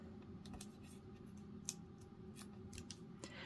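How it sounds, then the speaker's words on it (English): Scissors trimming the purple edge off a paper Valentine's greeting card, a quiet run of small crisp snips and paper crunches, close and alone with no talking. "So I'm going to cut off the purple edge, just like that."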